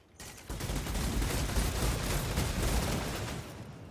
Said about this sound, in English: Rattling gun!